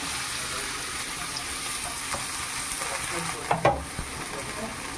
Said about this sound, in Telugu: ఇప్పుడు దీంట్లో కొద్దిగా పసుపు, ఈ బంగాళదుంప ముక్కల్ని వేసేయాలి.